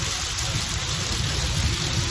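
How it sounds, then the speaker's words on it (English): Grain bin spreader throwing harvested grain in a thin layer across a bin, a steady loud hiss and patter like heavy rain with a constant high whine above it, continuous throughout. "That's the spreader again if you're new to the channel"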